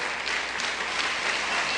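A church congregation claps hands in a brief, dense, continuous burst of applause, loud and close, with no voices heard.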